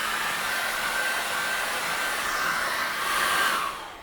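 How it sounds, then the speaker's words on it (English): A hair dryer blows on wet acrylic paint in a steady, close, airy whoosh for about four seconds, easing off slightly at the end. "dry that off with a hairdryer"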